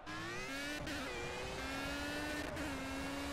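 A Formula A single-seater race car in the Project Cars video game, on the Spa circuit, revs high and shifts up through the gears, its whining engine pitch climbing and dropping with each change.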